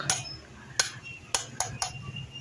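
A bearing is tapped into a wheel hub with a hammer, five sharp metallic knocks spaced unevenly over a couple of seconds, close and distinct against a quiet background.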